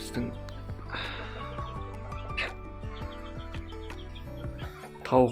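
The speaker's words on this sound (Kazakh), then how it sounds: "тауықтар" Hens in a backyard coop give scattered clucks and short calls at close range, mixed with other farmyard noise, and someone talks over them.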